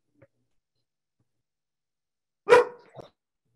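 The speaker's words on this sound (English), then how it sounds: "you got to hear my dog's response to your question there" A dog barks once loudly and close, followed by a softer short yip, with quiet around it in an indoor setting.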